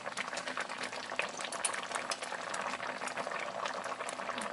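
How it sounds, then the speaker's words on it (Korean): Homemade mulberry jam boiling in a pot, thick fruit bubbling and spattering with steady crackling pops, close and fairly quiet, without speech. "오, 튀기 시작했어."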